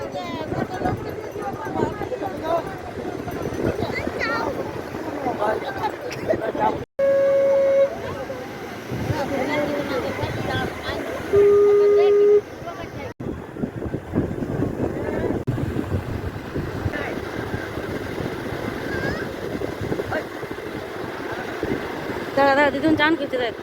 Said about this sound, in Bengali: ওই দেখ শোনা নৌকাটা ডাকছে ওই দেখ দূরে